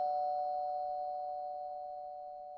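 A single doorbell chime rings late at night as one sustained, pure electronic tone that slowly fades over a couple of seconds, alone without voices.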